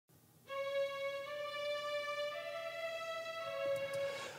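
Spitfire BBC Orchestra software strings hold a soft, sustained bowed chord that shifts to a new note partway through and rings on evenly at low volume.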